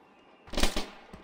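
A frag grenade blows up in the mobile shooter Standoff 2 during a competitive esports match, a sharp, punchy blast lasting under half a second with a brief crackling tail and a small follow-up pop.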